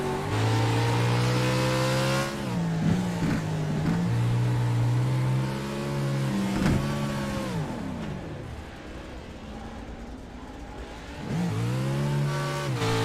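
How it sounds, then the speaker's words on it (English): A Toyota GR86 engine in a racing sim game revs hard and continuously, climbing and dropping in pitch through gear changes, with a quieter lift-off stretch before the engine roars up again. "Curtis Bird puts his foot on the clutch through there. Doesn't let the car do its thing"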